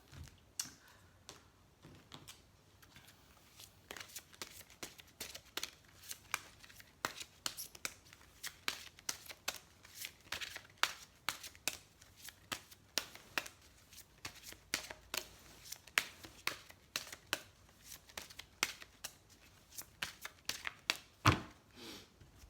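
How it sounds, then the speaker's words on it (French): Angel oracle cards being shuffled by hand, a quick rapid patter of riffling and slapping card sounds repeating close up across the whole stretch, with no talking. "Je vais vous tirer une petite carte des anges de l'amour pour voir ce qu'ils nous donnent comme conseil."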